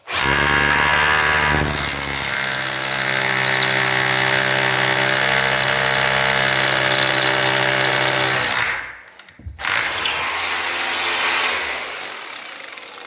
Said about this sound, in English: get my beefcake Makita hammer drill that I love so much